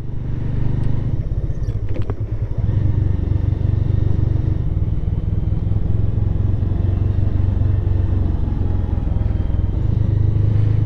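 A motorcycle ridden slowly on a rough, unpaved mountain road between Darjeeling and Bijanbari, with a steady close engine drone and low rumble, plus a brief clatter near the start, and no talking.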